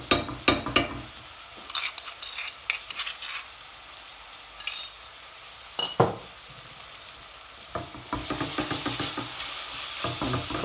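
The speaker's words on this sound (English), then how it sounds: "it's been about 3 to 4 minutes since I've added the ginger and garlic and it's cooking away" Ginger and garlic paste fries in a pan for a mutton curry, giving a steady sizzle with scattered sharp stirring scrapes and clinks, fairly close and moderately loud, with no talk over it.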